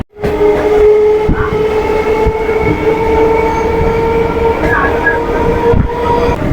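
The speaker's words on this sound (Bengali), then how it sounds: "আমাদের ট্রেনটা ঢুকলো এখন পার্ক সার্কাস স্টেশনে" A Budge Budge local commuter train rumbles and clatters steadily as it rolls into crowded Park Circus station, with a sustained metallic whine and periodic rail-joint knocks, loud and close.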